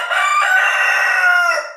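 A rooster crows close by in one long, loud, sustained call that holds steady for nearly two seconds before tapering off at the end.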